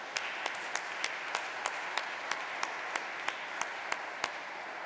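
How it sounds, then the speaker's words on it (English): A church congregation claps in thanks, steady single hand claps in a regular rhythm, close and fairly loud, with no talk over them. "let's give God a hand clap of thanks for his blessed mother."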